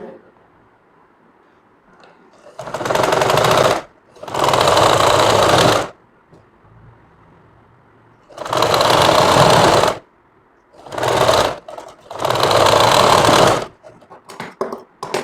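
A sewing machine stitches a kameez in four loud bursts of rapid, buzzing stitching, separated by short pauses with faint handling sounds.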